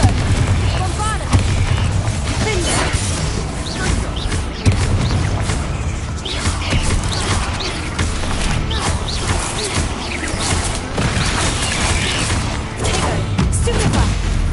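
Confringo and Bombarda explosion spells are cast in Hogwarts Legacy on PS5. Loud, rapid blasts and booms run continuously through a dense, busy game soundscape.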